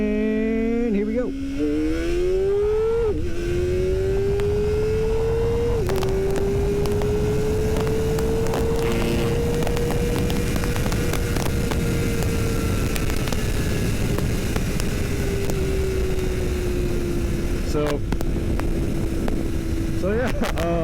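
A Kawasaki Ninja ZX-4RR motorcycle pulls hard from first gear, its high engine whine climbing through several short gear changes, loud and close throughout with steady wind roar.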